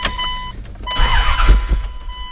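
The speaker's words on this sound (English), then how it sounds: "It just cranks." A Dodge Dakota pickup's starter cranks the engine without it catching, a loud rough churning that surges and fades over a couple of seconds with no talking.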